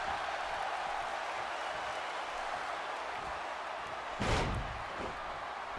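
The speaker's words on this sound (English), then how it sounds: "Body slam." Wrestler body slammed onto the ring mat at a sold-out Raw show, a single sharp thud near the end cutting through a steady crowd murmur.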